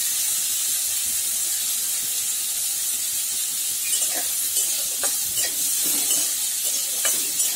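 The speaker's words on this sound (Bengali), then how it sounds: "করলাগুলো এবার একটু লাল লাল করে ভেজে নেব।" Bitter gourd pieces frying in hot oil, a steady close sizzle and hiss with occasional light stirring scrapes and pops.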